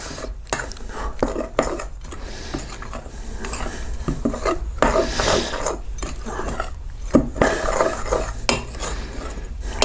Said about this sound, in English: I'm going to sprinkle that in and mix it up.